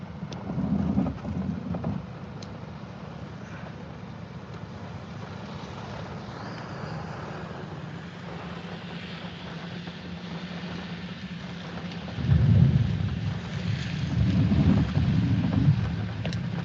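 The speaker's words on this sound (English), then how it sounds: "there's a close strike." Thunder from a close lightning strike in the early stages of a derecho over Iowa, Illinois and Indiana rolls in as a loud, deep rumble over steady rain, with a fainter rumble near the start.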